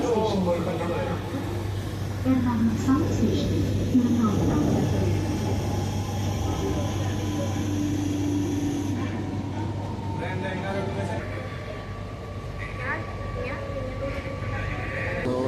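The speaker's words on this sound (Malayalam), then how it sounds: "അങ്ങനെ ഞങ്ങൾ മെട്രോ ട്രെയിനിൻ്റെ അകത്ത് കയറിയിരിക്കുന്നു." Steady rumble and hum of an elevated metro train ride over Ernakulam city, heard from inside the carriage, with people talking over the constant running noise.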